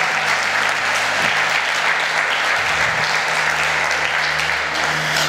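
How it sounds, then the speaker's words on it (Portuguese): A church congregation at a conference applauds, a loud, sustained wash of clapping filling the whole stretch, with a low hum underneath and no voice on top. "Aplauda o Senhor Jesus"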